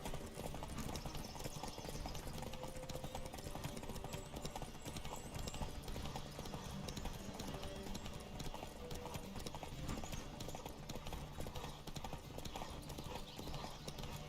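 A Nilfgaardian horse gallops in The Witcher 3 video game, steady rapid clip-clop hoofbeats running continuously and fairly close, with a low game ambience underneath.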